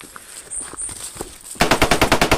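Rapid automatic gunfire from a video game, a tight burst of about eight loud shots in quick rhythm that follows a quieter stretch of faint game noise and soft footsteps.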